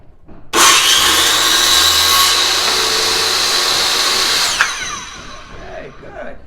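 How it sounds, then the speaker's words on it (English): A corded circular saw bites into wood with a sudden loud whine that holds steady for about four seconds, then spins down and fades as the cut ends. "Starting with the circular saw."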